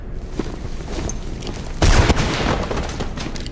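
Gunfire in the video game Mirror's Edge, a loud burst of rapid shots cracking out around the middle of the clip over a steady background din, with no talking.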